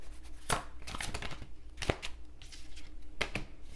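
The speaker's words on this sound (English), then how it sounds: "let's do some shuffling" Tarot cards being shuffled up close, several brisk riffling bursts with soft taps and slides between them, no voices.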